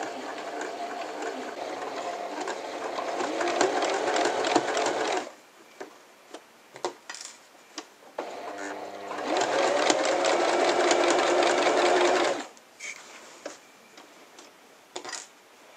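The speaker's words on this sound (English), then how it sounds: "continue to very carefully sew exactly in this line here, following the row of pins that we just pinned." A sewing machine stitches in the ditch along a row of pins in two sustained, steady runs of rapid mechanical whirring. Quiet pauses with scattered ticks and clicks separate the runs, and the machine is heard up close without talk.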